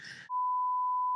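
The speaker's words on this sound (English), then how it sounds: "Please beep out the name." A single steady censor beep tone holds for about a second right after a short bit of speech, loud and clean.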